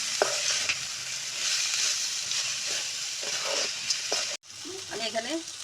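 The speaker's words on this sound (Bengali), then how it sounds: "এখন আমি চালটা দিয়ে দিব, দিয়ে আমি চালটাকে একটু ভালোভাবে ভাজবো।" Rice being stir-fried in a pan for pulao: a loud, close sizzle with repeated stirring scrapes, a short break, then more sizzling with a faint voice or whistle-like tone underneath.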